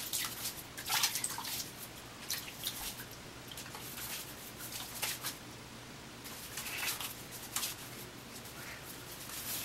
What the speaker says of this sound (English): I'm going to go ahead and take this bloom water, add it to my face.